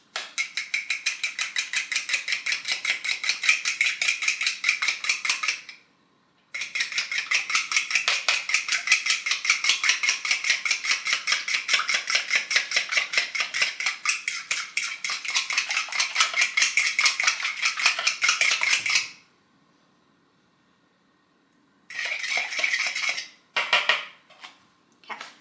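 Egg, milk and lemon juice being whisked in a bowl, a fast, rapid clatter of utensil against bowl that runs for long stretches, stops briefly, then resumes in short bursts.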